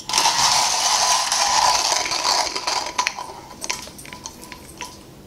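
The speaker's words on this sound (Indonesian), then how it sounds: "Coba sekalian kita ukur waktunya berapa lama sih giling 10 gram kopi ini." Ten grams of Sindoro Natural coffee beans being ground: a loud, steady grinding rattle for about two and a half seconds, then scattered clicks and rattles as the grinding winds down, with no talking.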